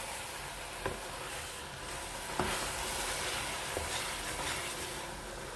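Spoon stirring a milk cake mixture of reduced milk right after a tablespoon of desi ghee is added, a steady scraping and sizzling texture with a few soft knocks against the pan, close and continuous, no talking.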